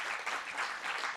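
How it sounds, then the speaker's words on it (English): A conference audience claps for a competing team, a soft, even patter of applause from a hall that fills the whole moment. "So let me just first a round of applause to Team INSEAD that's joining us remotely."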